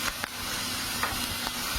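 Mustard seeds and green chilli frying in hot oil for a dhokla tempering, a steady close sizzle with faint crackles and pops, no speech.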